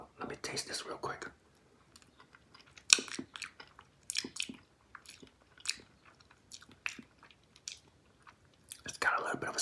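Close, moist chewing and soft crunching of Cow Tales chewy candy with a red filling, coming in irregular bursts, with whispery voice sounds at the start and end.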